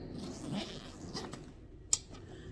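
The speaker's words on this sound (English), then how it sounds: "Until we unzip it." A handbag zipper drawn open, a brief soft rasp near the start followed by a sharp click of the hardware near the end, close and quiet.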